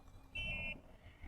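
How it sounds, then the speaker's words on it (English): A single short electronic beep sounds from a keyless RV door lock as its deadbolt extends, a clear tone lasting under half a second against quiet background noise. "You heard the beeps and the deadbolt came out."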